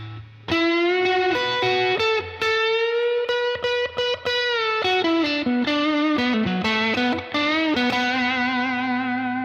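Electric guitar played through a Tone King Blues Power overdrive pedal, a sustained, singing lead line with bent and sliding notes, mildly driven and warm, played alone for the whole stretch.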